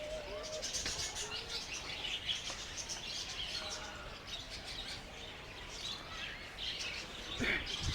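Sparrows chirp and twitter faintly in a noisy bird park aviary, scattered short calls over steady background hiss.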